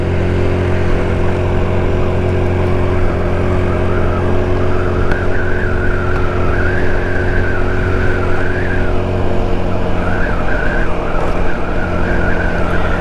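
An Icebear Hawkeye 150cc scooter being ridden: a loud, steady engine drone with a wavering whine and constant road and wind rumble, with no talk.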